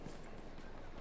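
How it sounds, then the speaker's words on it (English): Galloping horse hooves in the World War I shooter game Battlefield 1, a steady quick clip-clop over dense battlefield noise, loud and continuous through the whole second. "it's a horse"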